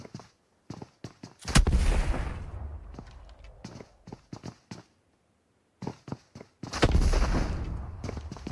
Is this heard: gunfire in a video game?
yes